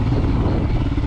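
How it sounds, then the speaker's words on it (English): Helicopter rotor and engine noise over backcountry meadows in Washington, a steady, loud, broadband thrum holding evenly throughout with no talk. "Where's the helicopter?"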